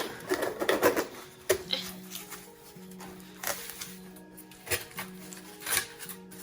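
A March Lison.ca subscription box being opened up close: irregular crinkly rustling, tapping and scraping of packaging, in soft bursts with short pauses and no talking.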